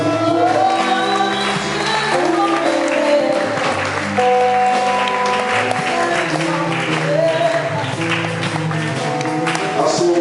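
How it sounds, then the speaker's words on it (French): A church congregation applauds and cheers together at a French-language sermon, a dense sustained wash of clapping with music and voices mixed in, loud throughout. "Est-ce que nous pouvons acclamer la victoire?"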